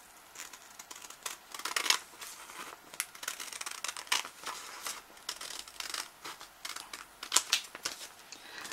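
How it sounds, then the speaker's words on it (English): Scissors cut a pouch shape from material in repeated crisp snips and slicing strokes at close range, irregular in rhythm with small crinkling handling noises between cuts and no talking. "Now I am going to take my scissors and I am going to cut the shape."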